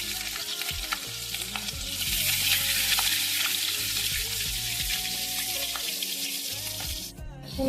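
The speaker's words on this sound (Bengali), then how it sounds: "আমাদের তেল কিন্তু গরম হয়ে গেছে এবার চলুন মাছগুলো আমরা ছেড়ে" Rohu fish pieces fry in hot oil with a loud, continuous sizzling hiss that swells slightly midway, ending with a brief clatter of cookware.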